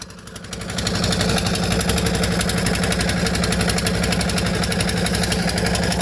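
A pump engine lifting mud at a brick kiln revs up from a quieter start into a loud, steady, rattling drone that holds at full speed throughout.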